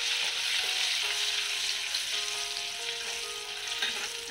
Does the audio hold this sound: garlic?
yes